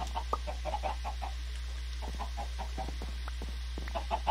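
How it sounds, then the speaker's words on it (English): Minecraft chickens on a Skyblock farm cluck repeatedly in short, scattered bursts over a low steady hum, several birds overlapping at moderate loudness. "Yeah, as you can see, my chicken population is coming along."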